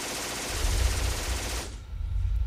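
Machine gun fire in a video game bursts out loud and continuous for well over a second, then cuts off abruptly, leaving a low rumble behind.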